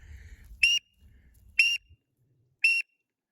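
A duck call whistle imitating a green-winged teal gives three short, high, piercing peeps, evenly spaced about a second apart, close and loud with quiet gaps between.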